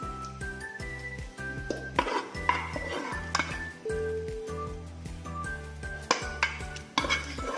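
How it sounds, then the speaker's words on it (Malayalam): Prawn masala spread with a spoon over biryani rice in a cooking pot: quick, repeated metallic scrapes and clinks in a busy rhythm over a steady low hum. "എന്നിട്ട് നമ്മുടെ ചെമ്മീൻ മസാല ബാക്കി ഇതിലേക്ക് തന്നെ സ്പ്രെഡ് ചെയ്ത് കൊടുക്കാം."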